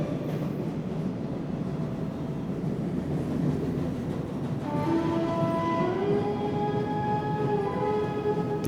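A train rumbles along a railway in the Nile region at a steady pace, then a high, whining tone rises over the rolling noise, moderately distant.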